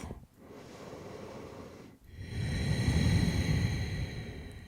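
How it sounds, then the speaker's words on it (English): Someone breathes deeply through the nose during yoga, giving two long airy inhale and exhale cycles, close and soft, with a short pause between them. "We'll just take a few breaths."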